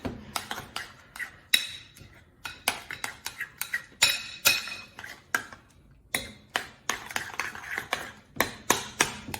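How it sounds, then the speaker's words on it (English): A utensil clinks and scrapes repeatedly against a pot while lumpy batter is stirred during a cooking demonstration, sharp metallic taps coming in a fast irregular rhythm, close and clear with no talk. "We'll give it a few more stirs."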